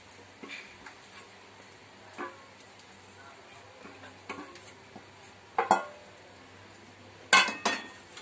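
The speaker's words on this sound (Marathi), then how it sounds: "तर आता आपण हलवून घेऊया, चांगलं व्यवस्थित हलवायचं आहे" A spoon stirs sabudana khichdi in a pan, sending out scattered scrapes and clinks of utensil on metal, several sharper knocks near the end over a quiet kitchen background.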